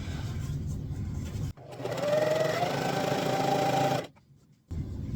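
A sewing machine stitches a fabric cover for a LARP shield, running steadily for a few seconds with a brief pause between bursts, close and fairly loud.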